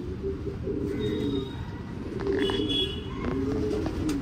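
Pigeons coo steadily in a home pigeon loft, several birds calling low and overlapping throughout, close and continuous, with a few faint higher chirps above the cooing.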